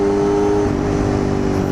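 A Honda CBR250RR motorcycle engine screams at high revs while being ridden at about 60 km/h. It makes a loud, steady, close-up whine that holds its pitch for the whole stretch.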